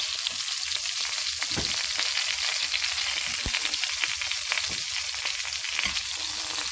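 Guinea fowl pieces brown in a hot pan with a constant bright, crackling sizzle and occasional sharper pops and taps throughout.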